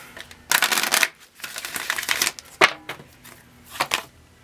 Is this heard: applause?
no